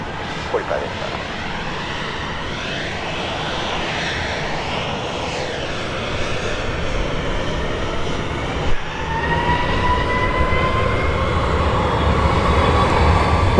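Southwest Airlines jet taking off from runway 31 right at Dallas Love Field at night, a loud sustained roar of engines with a sweeping whine that builds and holds.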